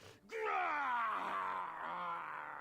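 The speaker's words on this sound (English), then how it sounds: "It called out in pain as I heard its body crash to the floor." A monster in the King's Quest video game lets out a long, loud, drawn-out groaning wail of pain that slowly falls in pitch.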